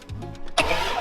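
A truck engine cranks but does not start: a rapid, rhythmic starter churn, then a brief louder burst of engine noise near the end, close and fairly loud.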